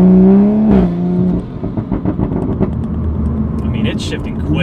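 A Toyota Supra A90 with a ZF automatic accelerates, its engine note stepping through quick shifts with rising whine and pulsing revs, heard from inside the car while a person talks over it at the start.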